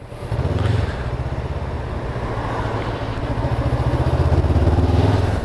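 A 2019 Honda CBR500R motorcycle engine runs steadily with a low, throbbing hum and faint pulsing, close and fairly loud throughout, with no voices.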